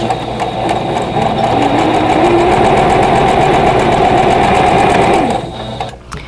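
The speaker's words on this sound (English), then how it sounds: "I'm using a Singer patchwork machine" A Singer patchwork sewing machine stitches in a fast, even mechanical chatter, loud and close, running steadily for several seconds before stopping abruptly.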